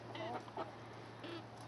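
Backyard chickens cluck softly in a brief, faint burst of a few short calls over a steady background hum.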